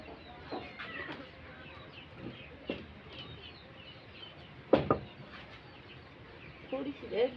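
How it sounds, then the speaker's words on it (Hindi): A household rooster clucks and calls in a rural home courtyard. Short, scattered bursts rise over a quiet, noisy background, with a louder call near the middle and a cluster toward the end. "मेरी जगह पे मेरा मुर्गा बोल रहा है, आप लोगों के साथ बात कर रहा है। वो अपनी आवाज़ें लगा रहा है।"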